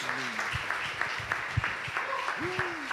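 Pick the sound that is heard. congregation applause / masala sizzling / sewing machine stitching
congregation applause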